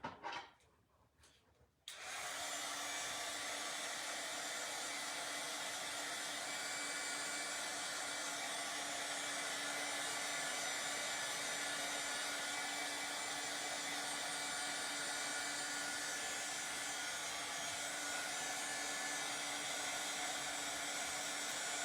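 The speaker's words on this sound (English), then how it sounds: "let's go ahead and dry these" Hair dryer blowing steadily on freshly painted wooden tiered tray blocks, switched on after a couple of seconds of quiet handling sounds, then a constant near whir.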